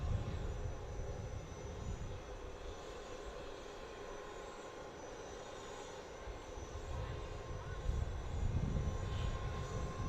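A P-8 military aircraft approaches Harrisburg International Airport from far out, its jet engine roar a steady broadband rumble that swells slightly toward the end, with no voices over it.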